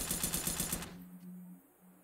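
Rapid automatic gunfire in a first-person shooter game rattles off in a quick burst, then gives way to quieter game tones and ambience.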